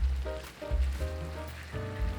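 Green onion hitting a hot pan of Korean spicy pork (jeyuk bokkeum), a continuous crackling sizzle with soft pulsing surges and a low hum underneath, no voices.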